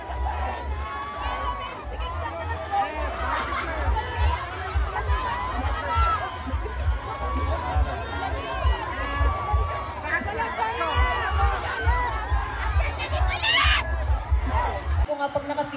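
Crowd of fans shouting and cheering at a concert, a dense, continuous roar of overlapping voices and screams, loud and close throughout.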